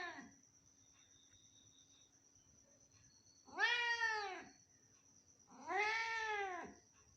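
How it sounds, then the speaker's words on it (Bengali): A cat indoors gives two clear, drawn-out meows a couple of seconds apart, fairly close, over quiet room hiss with a faint steady high whine. "ম্যাও ম্যাও করে দাও, করে দাও ম্যাও"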